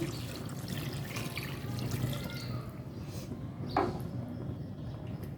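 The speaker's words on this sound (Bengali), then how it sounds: "এর মাঝে পানি দিয়ে দিচ্ছি" Water pours into a pan of chicken cooking in oil, a steady running splash and bubbling over a low background, with a short clunk partway through.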